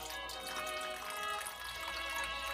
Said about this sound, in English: get a cup of water and pour you some water into your steak